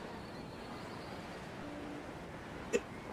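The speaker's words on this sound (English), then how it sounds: "Oh, I got the hiccups" A single short hiccup, faint and close, against a steady quiet background hiss with no talking.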